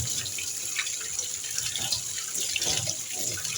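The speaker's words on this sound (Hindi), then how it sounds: "इसको हम चलते हैं ठंडे पानी के नीचे। इसको धो लेते हैं, इस छन्नी में डाल देंगे ये।" Cold tap water runs steadily over boiled pasta in a strainer to rinse away starch, a continuous close splashing and trickling rush with no talk.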